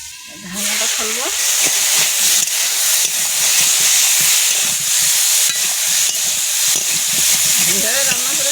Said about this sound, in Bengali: ঢাকনাটা খুলবো।